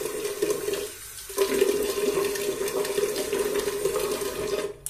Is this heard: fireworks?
no